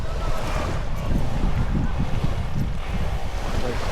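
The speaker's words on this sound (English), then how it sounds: "You can enjoy the sounds of the locals and the sounds of the waves." Ocean waves wash onto White Beach in Puerto Galera, a steady low rumble of surf mixed with wind buffeting the microphone, continuous and fairly loud with no clear individual breakers.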